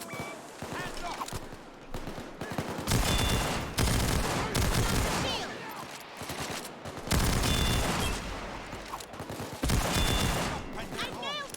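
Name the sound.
gunfire in video game Payday 2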